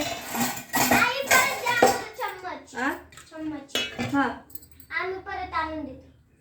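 Spoons and cutlery clink and rattle in a home kitchen as someone searches for them, with dishes knocking in short bursts under steady talking from an adult and a child.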